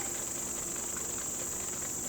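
Honeybee colony in a hive during a thymol mite treatment trial, giving a steady, even insect drone with a bright high whine, continuous and fairly faint with no voices.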